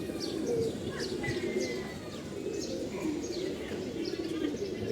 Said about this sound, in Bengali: আবার ওর কবুতরটা দেখতে পাচ্ছেন